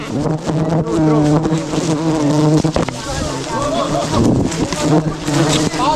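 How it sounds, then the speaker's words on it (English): A loud, dense buzzing of many aggressive wild bees from a huge hive on a tree swarms close around, droning continuously with pitch shifting as they fly past, and a voice murmurs beneath. "the bees are now showing incredible aggression"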